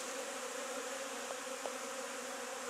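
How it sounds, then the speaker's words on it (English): Honeybees at a busy, active hive produce a steady, continuous buzz of many insects close by, with a couple of brief louder passes near the mic and no talking. "I think we can say that's a fairly active hive"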